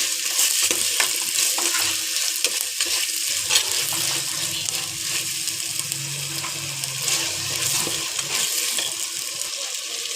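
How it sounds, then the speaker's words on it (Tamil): Tomatoes with curry leaves are sautéed in a pan, giving a loud, continuous sizzle broken by frequent scraping and stirring strokes, close up, with no speech. "தக்காளி வந்து நம்ம நல்லா வதக்கி எடுத்துக்கலாமா"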